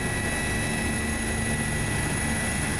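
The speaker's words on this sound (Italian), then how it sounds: "l'elicottero di soccorso" A rescue helicopter flies overhead, a steady droning whir of rotor and engine that stays constant and fairly loud throughout with no voices.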